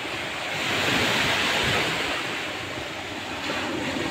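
Loud, continuous roar of rough surf during a typhoon, with heavy wind noise buffeting the microphone, a steady stormy wash with no pauses.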